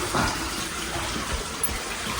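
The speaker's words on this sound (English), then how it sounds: "All the water is still draining out." Water from a broken water main in Manhattan gushes and drains steadily, a continuous close, loud rushing wash without pause.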